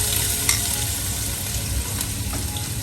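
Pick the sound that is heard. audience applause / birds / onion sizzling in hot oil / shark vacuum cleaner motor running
onion sizzling in hot oil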